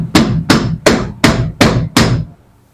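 Six sharp metal strikes from a heavy flashlight hammering a door lock part on a 1970 Monte Carlo, evenly spaced and loud, each ringing briefly before the next, then quiet.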